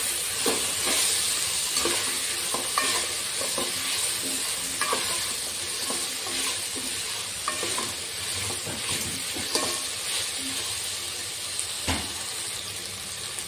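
Soaked green peas fry and are stirred in a pan, making a steady sizzle broken by frequent clicks and scrapes of the spoon against the metal.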